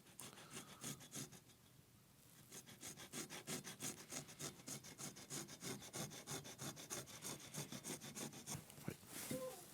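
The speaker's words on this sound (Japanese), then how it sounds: "さっきの押さえ引きのノコで切ります。" Japanese pull saw cutting wood while making a small wooden spokeshave, giving quick, regular rasping strokes close by, a short pause, then a faster rhythmic run of cuts.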